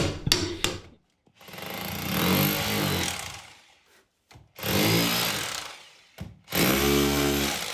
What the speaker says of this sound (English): Chipping away at the black mortar.